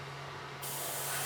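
A spray can mists paint onto a model, a steady broadband hiss that grows louder and brighter halfway through, close up, with a faint constant hum underneath and no talking.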